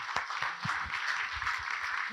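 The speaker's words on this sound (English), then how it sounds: "could you please join me in a big round of applause for our four" Audience applause for four presenters at a nature trust event on biodiversity loss, a steady, fairly soft wash of clapping from a seated crowd.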